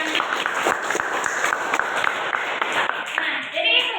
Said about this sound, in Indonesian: tepuk tangan untuk Tiana